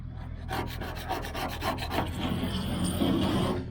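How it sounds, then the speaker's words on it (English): A small razor blade scraper rasping residue off the sanded steel body of a 1981 Chevrolet Silverado truck, a series of close, gritty back-and-forth scrapes with no talking. "gonna use a little razor blade scraper"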